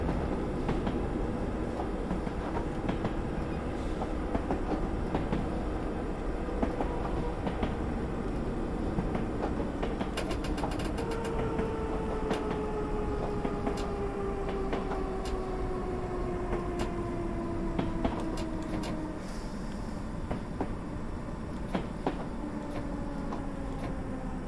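Interior of a London Underground train in the Train Simulator game running toward Paddington on the Hammersmith to Edgware Road line, with a steady loud rumble, rhythmic clicks of wheels over rail joints, and a rising whine as it slows for the platform.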